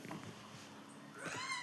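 A cat meows indoors at close range, a single drawn-out call rising near the end of the moment over a quiet background with no speech.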